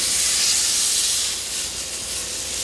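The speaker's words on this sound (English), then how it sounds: "And we're going to sear both sides." A pork chop searing in a sauté pan gives off a loud, continuous hiss of sizzling fat, close and steady throughout with no talking.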